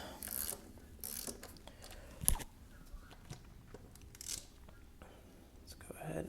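A ratchet wrench torques down motorcycle bolts, giving a few short, faint bursts of clicking spread across the clip against a quiet workshop background.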